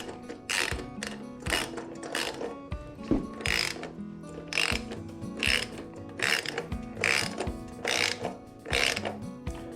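A ratchet with a 13 mm socket tightening the bolts of a Freedom Shields windshield mount, rapid metallic ratcheting clicks in steady bursts of strokes, close and loud, with no talking.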